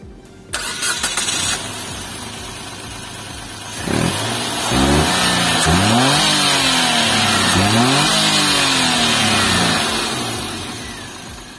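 Nissan March with a 1200cc HR12DE engine cranks and starts, then revs in several rising and falling sweeps before settling, loud and close with no talk.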